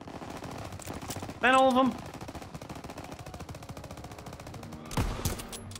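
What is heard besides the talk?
gunfire from a video game, Call of Duty: World War 2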